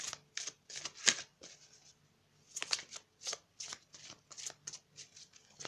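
A deck of ascended-masters oracle cards is shuffled in quick riffling bursts, roughly a dozen crisp papery flurries close to the mic, with brief pauses between them and no talk.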